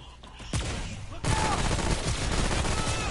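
SMG gunfire in Remnant, rapid bursts of shots starting sharply and continuing as a dense rattling stream, close and loud, with some speech mixed in.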